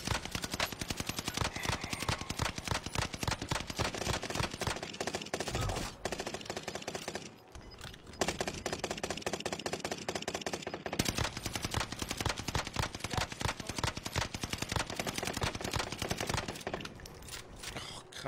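Video game gunfire in Warzone, dense rapid automatic bursts almost continuously, loud and close, with short pauses between strings of shots.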